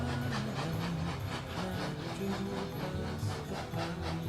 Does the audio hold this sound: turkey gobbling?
no